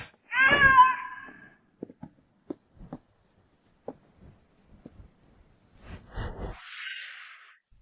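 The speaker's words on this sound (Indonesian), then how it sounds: "Kucing ini yang kamu pelihara waktu sekolah ya?" A pet cat gives a loud, clear meow near the start, followed by soft scattered taps and rustles and a brief swishing noise near the end.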